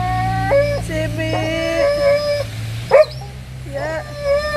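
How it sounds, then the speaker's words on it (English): A big dog that has been hit by a truck, heard through a played phone recording, yelps, whimpers and cries in pain in repeated high-pitched bursts over a steady background hum. "You can hear him screaming in pain in the video."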